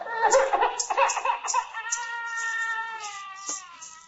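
A cat meowing repeatedly over a few seconds, with drawn-out, whining cries that sound close and clear.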